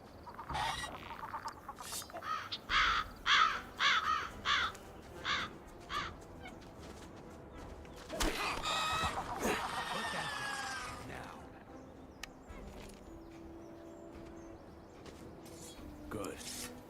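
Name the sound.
crows cawing in Gothic 1 Remake video game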